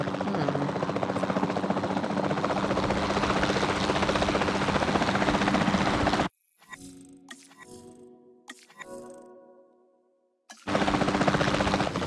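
A capture team helicopter in a video game hovers with a steady, loud rotor roar for several seconds, then cuts away to quieter game sounds before the rotor drone returns.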